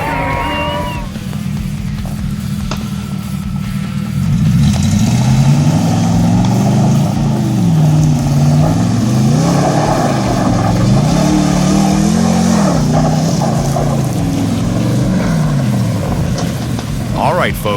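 The Brodozer diesel truck revs hard at the Weekend on the Edge event in Ogden, its loud engine rising and falling in repeated surges, with a voice talking over the opening seconds.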